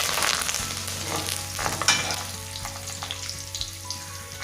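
Tender jackfruit thoran with dried red chillies and curry leaves crackles and sizzles in a pan, a dense frying hiss with a few stirring scrapes, close and without speech.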